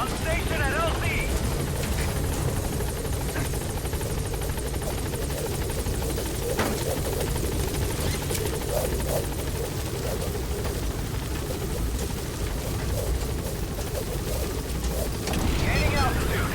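In the Metal Gear Solid V video game, the Pequod helicopter holds near a landing zone with a loud, continuous rotor roar and engine whine, and voices speak over the steady din.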